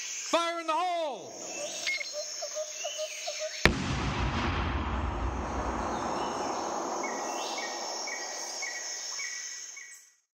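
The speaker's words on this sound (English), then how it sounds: "The explosion now sounds more like a firecracker than a grenade" A sharp, sudden, heavily compressed grenade explosion bang cuts through a steady chirring of insects and jungle ambience, followed by a long washy rumble that fades out.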